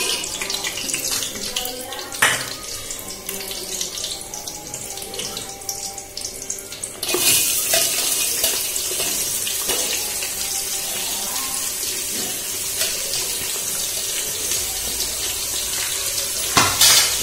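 Spices sizzle and splutter in hot oil for a mushroom biryani, a steady close hiss with crackles that grows louder partway through, with a voice faintly underneath.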